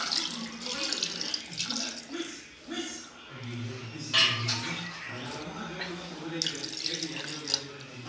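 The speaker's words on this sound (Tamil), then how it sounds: "மட்டன் வேகிற அளவுக்கு தண்ணி விட்டுக்கலாம்." Water runs steadily into a cooking pot of mutton for biryani, a splashing, tap-like flow beneath a person talking throughout.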